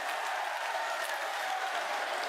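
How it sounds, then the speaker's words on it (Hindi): Crowd applause welcoming Chief Minister Yogi Adityanath at a public rally in Narnaund, a steady continuous wash of many hands clapping at moderate distance with no voices over it. "एक बार जोरदार ताली बजा करके आदरणीय मुख्यमंत्री"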